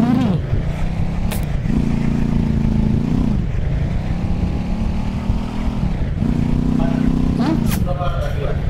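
Motorcycle engine in a shooting video game, a loud continuous drone that repeatedly revs up and drops back in pitch as it accelerates, with game sounds layered over it.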